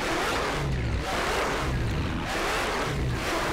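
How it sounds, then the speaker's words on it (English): A loud G-Wagon engine in GTA 5 gives a constant, heavy low rumble with a broadband roar, pulsing in a steady rhythm as the vehicle drives, with no talk over it. "I really want to enjoy this car today, but man, this thing is loud."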